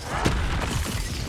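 Incendio fire spell cast in Hogwarts Legacy, a short booming burst with a crackling, shattering edge, loud and close, lasting about a second.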